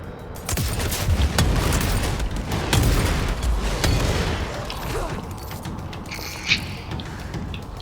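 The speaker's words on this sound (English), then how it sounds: "I heard grenades!" Grenades detonate in a video game firefight in Control, a run of heavy booms and gunfire bursts rolling together close and loud, with a sharper pop near the end.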